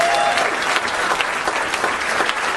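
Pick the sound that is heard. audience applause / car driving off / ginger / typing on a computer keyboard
audience applause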